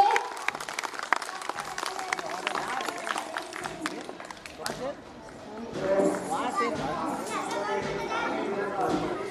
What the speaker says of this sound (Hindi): उनके साथी बहुत सी तालियां बजनी चाहिए